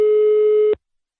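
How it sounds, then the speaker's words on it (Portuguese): A telephone line tone sounds as a phone call is placed: one steady, loud electronic beep lasting under a second, then it cuts off into silence. "vou ligar pra Wanda, vou perguntar se ela quer trocar o smartphone dela"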